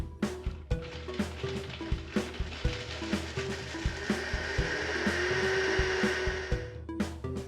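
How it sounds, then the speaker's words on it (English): Cinnamon sticks and cardamom rattle hard in the small 8-ounce bowl of a Vitamix Ascent A3500 blender, loud and close. Rapid regular knocking rides over a rising motor whir that smooths into a steady grind before knocking resumes. "starting with the Vitamix Ascent A3500 and the 8-ounce blending bowl, I'm milling cinnamon sticks and cardamom."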